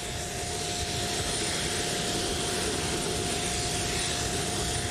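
The jet engines of the White Knight carrier aircraft, started on the ground at Mojave, give a loud, steady roar with a sustained whine, close by and unbroken throughout.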